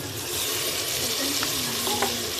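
Ginger, garlic, green chili and tomato frying and being stirred in a pan while cooking chicken with pumpkin, a steady close sizzle with a few light scraping stirs, no voices.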